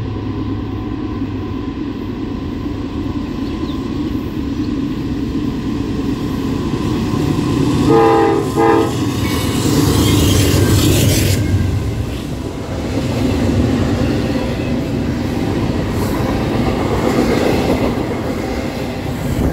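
A Norfolk Southern westbound freight train, 21Z, led by two C6M locomotives, rumbles past loud and steady, with diesel drone and rolling wheel noise swelling midway and holding to the end.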